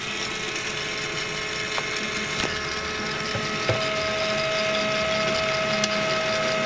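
A Rotor paintball loader switched on and running with an Epic feed fitted, giving a steady close mechanical whir and hum with a faint rising tone partway through and a few small clicks, no talking.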